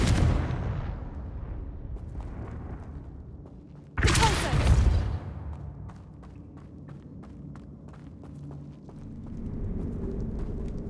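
A Confringo fire blast spell cast in the Hogwarts Legacy video game bursts out as one loud, sudden whooshing blast, then fades into lighter game effects and ambient background.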